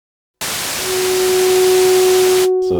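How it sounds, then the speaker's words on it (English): White noise waveform played on a Yamaha Montage M8X synthesizer, a loud, steady broadband hiss with a faint sustained tone beneath it, starting abruptly and cutting off after about two seconds. "What we're searching for is white noise."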